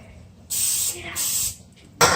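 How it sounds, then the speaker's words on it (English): Three quick hissing bursts of cooking spray, the first two longer and the last a short sharp spritz, close by. "I'm having to spray pretty often to keep them from sticking to my spatula."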